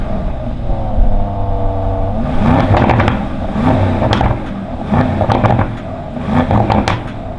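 A 4-litre bi-turbo V8 in an Aston Martin DBX turns over and fires up, idling with a low rumble, then gives several short sharp revs close to the microphone.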